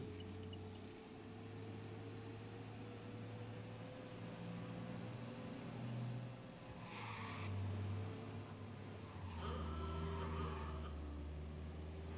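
A car speeds along in the video game Mafia Definitive Edition, its engine a steady, close drone that rises and dips in pitch as it accelerates and shifts, with no talking.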